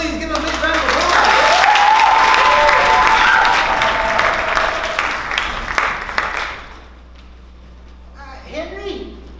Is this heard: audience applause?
yes